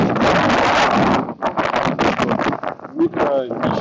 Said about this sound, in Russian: Довольно сильный ветер, стою у дороги.